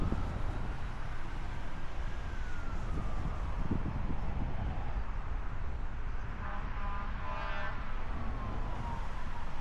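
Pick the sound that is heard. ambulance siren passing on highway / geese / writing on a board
ambulance siren passing on highway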